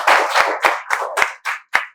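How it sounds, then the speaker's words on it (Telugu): Students in a spoken English class clap in a loose, uneven rhythm of about seven close, sharp hand claps over two seconds, with no talking. "claps better clap"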